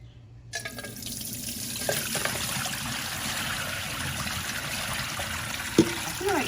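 Homemade Jamaican sorrel drink being poured steadily into a container, a continuous splashing liquid stream running close and fairly loud for several seconds after a brief quiet start.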